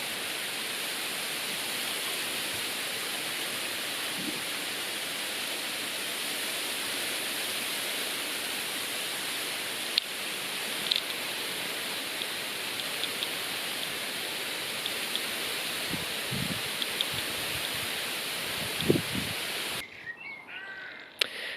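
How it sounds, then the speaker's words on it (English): A heavy downpour of rain sounds as a loud, even roar that holds steady for about twenty seconds, with a few faint knocks near the end before it cuts away. "So yeah, bit of a downpour, but it collected a couple of millimetres, so some very welcome rain."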